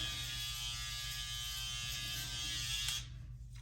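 Electric hair clippers buzz steadily and close up while cutting hair, a constant whine that cuts out near the end.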